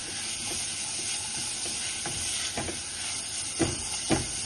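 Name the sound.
finely chopped onion frying in a pan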